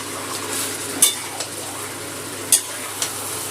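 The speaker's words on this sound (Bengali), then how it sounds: "গ্যাসটা বাড়িয়ে ভালো করে মাংসটা তেলের মধ্যে কষিয়ে নেব।" Chicken sizzles in hot oil with spices over a raised gas flame while a utensil stirs it, giving a steady frying hiss broken by a couple of sharp metallic clinks against the pan.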